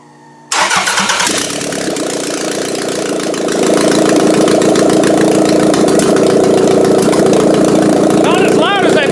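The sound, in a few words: 1999 Toyota Camry engine idling with no header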